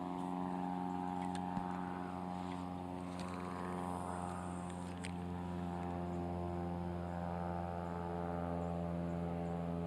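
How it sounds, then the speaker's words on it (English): A loud, steady propeller-plane drone hums low and even throughout, with faint outdoor noises over the top, heard at dusk while fishing. "there just happens to be a super loud airplane at dusk"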